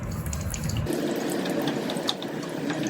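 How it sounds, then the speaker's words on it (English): Engine oil drains from a Cub Cadet XT1 Enduro LT46 lawn tractor, gushing in a steady splashing stream into a catch container, close and continuous with no talking. "now you got a bunch of oil gushing out the side."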